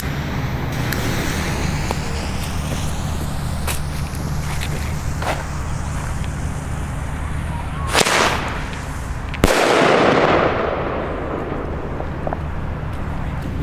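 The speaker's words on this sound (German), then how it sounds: "Nico Flashbang immer noch eins der besten Bombenrohre." Nico Flashbang firework mortars for New Year's Eve burst outdoors, with a sharp loud bang near eight seconds and a second heavier blast around nine and a half seconds, followed by a hissing decaying tail over steady background noise.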